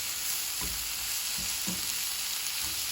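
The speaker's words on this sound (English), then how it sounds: "go ahead and add your tomatoes." Tomatoes frying in a pan for Mexican-style steak, bistec a la Mexicana, give a steady broadband sizzle with a few soft low stirring knocks, close and continuous, with no talking.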